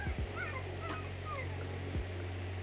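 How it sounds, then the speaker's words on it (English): A puppy whining outside through an open window, a few faint, brief whimpers and yips over a steady low hum indoors. "Oh, puppy out there is whining."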